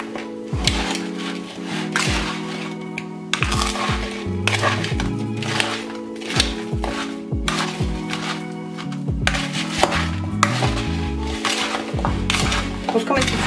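A spoon stirs baked-pumpkin pieces with cinnamon in a bowl, giving repeated soft clinks and scrapes in an uneven rhythm under steady background music.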